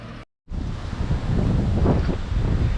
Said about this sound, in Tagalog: pabugso-bugso yung hangin Lumalakas yung hangin na yun